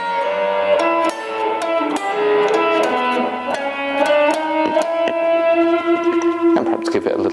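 A slow electric guitar blues lick, single notes picked one at a time with clear sustained harmonics and bends, ending on a held note; close and fairly loud, played alone with no talking.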